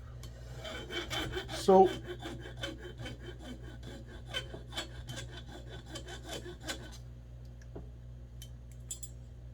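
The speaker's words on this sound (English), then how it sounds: "a little bit of filing" A file rasps over a straight razor blade in a run of quick, close metallic strokes that fade toward the end, with a brief louder clank early on and a single short spoken word.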